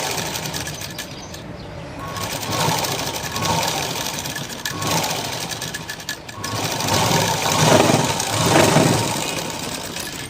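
A sewing machine stitches a blouse with a steady, rapid mechanical whir and chatter, running continuously at close range with slight swells in speed.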